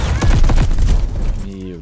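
A rapid burst of automatic gunfire from a weapon in the shooter game Call of Duty Vanguard, loud and close, several quick shots fading into a ringing tail, with a voice over it.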